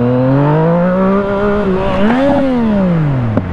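A motorcycle revs hard during a wheelie on a leaf-strewn road, the engine note holding, then rising and falling in a loud nearby surge, with a sharp knock near the end.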